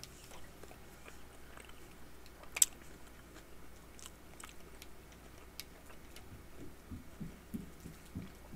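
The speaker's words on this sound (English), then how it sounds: "I'm just eating lunch" Quiet chewing and biting while eating lunch indoors: faint, irregular soft crunches and mouth clicks that grow more frequent toward the end, with one brief sharp click early on and no talk.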